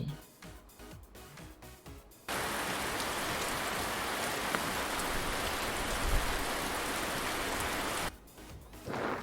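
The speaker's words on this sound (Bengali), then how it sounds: "ছাতা মাথায় বৃষ্টি পড়ে" Steady, dense rain patters on an umbrella in a continuous hiss that starts abruptly, holds for about six seconds, then stops.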